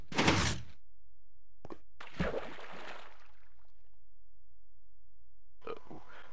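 Minecraft door sounds, a sharp wooden clack at the start, then a brief knock and a longer rattling thud, with another faint clunk near the end, set apart by silence.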